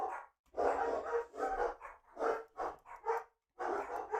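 Several close dog barks and yaps come in irregular bursts, some clustered and some spaced by short pauses, with no talking.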